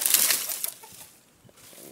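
Backyard chickens cluck and flap briefly close by, a loud burst of wing flapping and fowl calls at the start that fades into quieter clucks.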